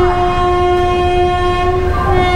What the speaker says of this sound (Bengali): হাওড়া চক্রধরপুর এক্সপ্রেস এখন ছেড়ে দিল।